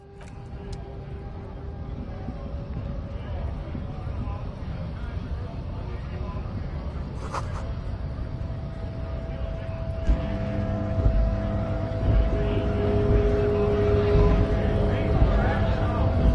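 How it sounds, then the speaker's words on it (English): Engine of a Stars Ryko, a Zhimsk-made motor carriage in Disco Elysium, running as a steady low drone that swells louder toward the end, with a voice talking over it. "A Stars Ryko, one of the finest Zhimsk-made motor carriages ever"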